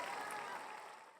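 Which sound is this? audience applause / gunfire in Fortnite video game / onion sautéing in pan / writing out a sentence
audience applause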